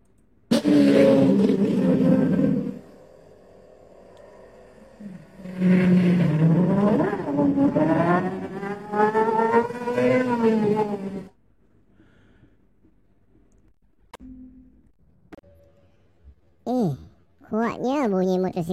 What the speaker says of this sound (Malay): Kuatnya bunyi motosikal ini.